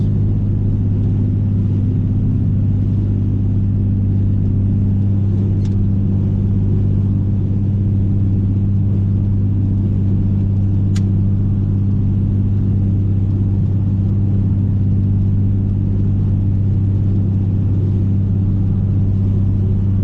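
A car engine holds a steady 3,000 RPM cruising at 70, a constant low droning rumble with road noise from inside the cabin, unchanging and loud throughout, with no one speaking.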